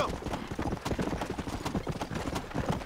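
Horse hooves clip-clop in a steady, brisk rhythm in the video game Red Dead Redemption: Undead Nightmare, close and continuous with no talk over them.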